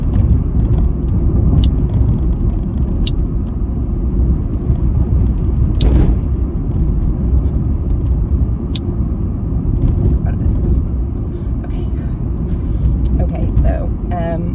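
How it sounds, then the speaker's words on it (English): A small Toyota Yaris heard from inside while driving on the road, a steady low engine and road rumble running throughout, with a person talking over it. "It's a little Toyota Yaris car."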